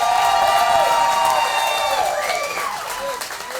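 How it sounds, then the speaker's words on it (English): A comedy benefit show audience gives a loud ovation with applause and cheering as a performer is brought to the stage, a dense wash of clapping with whoops and tonal calls rising over it, easing slightly toward the end. "Ladies and gentlemen, thunderous round of applause."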